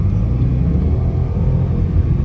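A 480hp BMW X6 in Sport Plus mode rumbling steadily with a loud, continuous low engine and exhaust drone heard from close by, without distinct pops standing out.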